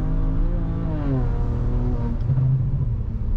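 A car fitted with 17T China turbos revving and accelerating, a loud near engine note climbing in pitch and then holding a steady drone, with no talk over it.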